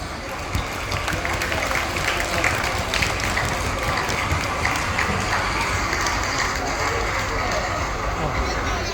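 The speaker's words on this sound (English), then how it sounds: "So let's give him a round of applause." A crowd claps steadily at a groundbreaking ceremony for Chong Pang City in Singapore, welcoming the Prime Minister. The dense applause runs throughout, with voices mixed in.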